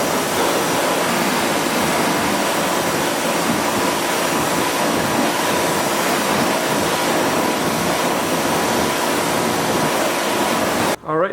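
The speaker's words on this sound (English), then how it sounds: "So let's go ahead and power wash this and see if we don't get like a red puddle at the bottom or something." A pressure washer sprays a car wheel in a continuous loud rushing hiss of water, steady and close throughout before stopping abruptly at the end.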